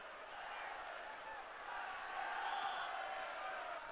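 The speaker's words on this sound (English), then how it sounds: "a little bit of cheer for the travelling support" Football crowd cheers for the travelling supporters, a distant, steady roar of voices from the stands that swells slightly midway, with no clear nearby talk.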